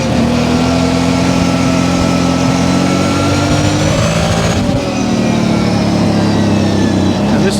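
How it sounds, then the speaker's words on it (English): An ATV engine revs up and holds a loud, close, droning roar with wavering pitch as the throttle opens, a brief dip midway, and a voice talking over it. "Look at the throttle response, watch. It's like this thing's got like a turbocharger on it."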